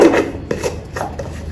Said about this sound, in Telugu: మనం క్యాప్ పెట్టేసుకుందామండి ఇక